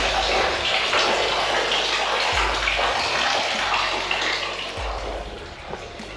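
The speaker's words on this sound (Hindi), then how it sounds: "पानी की आवाज़ आ रही होगी आपको, और पानी इस सोच से धीरे धीरे रिस रहा है" Water steadily seeping and trickling at Mrigdhara spring inside Kalinjar Fort, a constant loud rushing splash with a few low thumps, filling the scene without pause.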